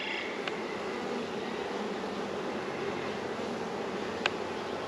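A calm hive of honeybees from a swarm gives a steady, soft, even buzz throughout, with a couple of faint brief clicks and no voices.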